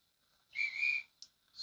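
Railway guard's whistle blown on a station platform before a train departs: one short, shrill, steady blast, fairly faint, followed by brief fainter chirps, with no talk.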